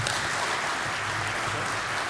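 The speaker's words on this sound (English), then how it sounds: "Let's give Chris a big round of applause." Audience applause at an ophthalmology innovation conference session, a short steady patter of clapping from a seated crowd, fairly quiet and even.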